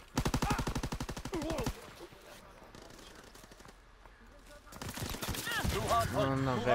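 Rapid bursts of machine gun fire in a first-person shooter hardpoint match on the Gibraltar map, a loud dense rattle at first, then a quieter stretch before more gunfire and shouting voices return.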